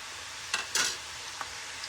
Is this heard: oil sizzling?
yes